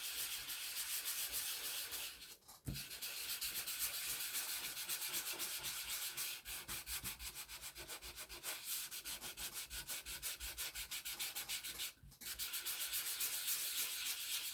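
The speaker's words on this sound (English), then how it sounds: "Good old sand block." Sanding block scrubbing across the glossy face of a postcard in steady, close back-and-forth strokes, with two brief pauses.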